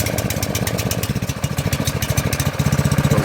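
The small engine of a garden sprayer runs close by with a rapid, pulsing putter that steadies and grows slightly stronger, loud and alone with no talking.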